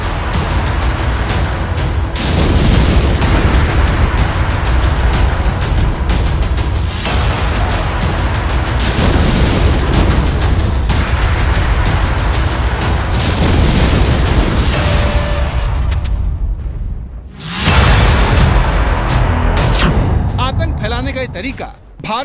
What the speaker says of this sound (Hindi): आतंकवादी एक गाड़ी में विस्फोटक भर कर लाता है और सैनिकों के बीच अपनी गाड़ी खड़ी करके उसे उड़ा देता है।